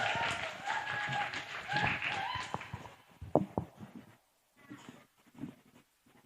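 Applause for a contestant at an early-childhood Quran memorization competition in a mosque, a few seconds of crowd clapping that thins into scattered claps and taps before quiet.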